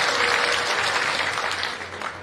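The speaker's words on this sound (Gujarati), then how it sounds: "તમને ભાઈ જોરદાર તાળીઓ બજાવો" A crowd at an Aam Aadmi Party election rally in Talala, Gujarat, breaks into dense, sustained applause, a loud continuous wash of many hands that tapers slightly toward the end, with no speech on top.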